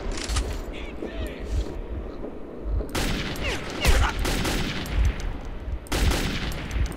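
Heavy gunfire in Metro 2033 comes in loud, close bursts separated by short pauses, with booming low thumps and someone talking between the volleys.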